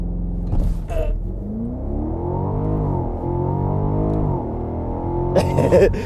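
A 2021 BMW Alpina XB7 luxury SUV launches hard in launch control, its engine note climbing steadily through the rev range with a brief dip around a gear change, loud and close, with short noises at the start.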